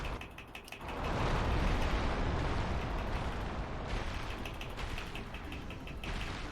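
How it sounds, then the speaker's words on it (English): Bombs thrown in Dark Souls: Remastered burst into a rumbling, crackling explosion that swells after a brief quieter start and rolls on steadily, loud and close, with grinding mechanical textures and no talking. "This, we got the bomb throws."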